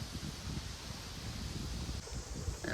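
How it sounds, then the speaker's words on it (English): Steady low wind rumble buffeting the microphone, with soft rustling throughout and no one speaking. "A little windy today, sorry about the wind."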